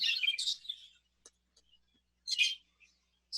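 Budgies chirping in a breeding aviary of exhibition birds, faint scattered bright chirps with pauses of near silence between them.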